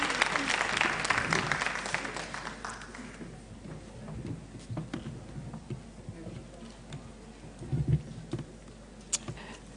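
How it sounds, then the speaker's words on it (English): Audience applause at the opening ceremony of the Jamaica Teachers Association education conference 2019, loud and dense at first, then thinning into scattered claps over quiet room tone. "Please give them a round of applause."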